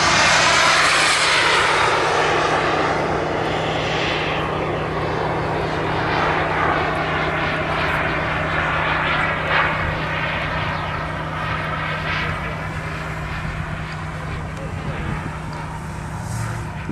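Radio-controlled F9F Cougar model jets make low passes over a flying field, a loud sustained jet whine and roar that swells and fades as they pass, while an announcer talks over it.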